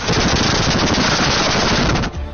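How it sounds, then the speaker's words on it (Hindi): Anti-aircraft guns fire in a Chinese military rehearsal, a dense and continuous roar of rapid shots that stays loud and close for about two seconds, then cuts off abruptly. "एंटी एयरक्राफ्ट गनें आग उगल रही हैं"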